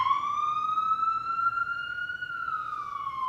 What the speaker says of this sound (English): Ambulances.